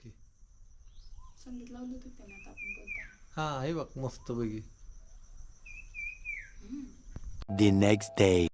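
Two short, bright bird chirps sound between stretches of nearby talk, with a faint background hum; a louder voice comes in at the end.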